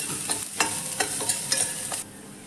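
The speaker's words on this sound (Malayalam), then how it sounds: "ഇതൊന്ന് ചെറുതായിട്ട് വഴറ്റിയെടുക്കുക" Vegetables for ragi soup sautéing in a pan, a continuous sizzle broken by several crisp scraping strokes of a spatula, close by and alone.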